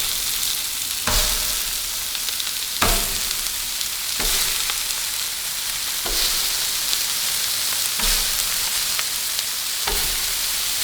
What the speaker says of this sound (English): You can hear that sizzle right there.